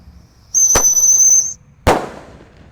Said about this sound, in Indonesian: Ini pelontar mini sudah menyala guys.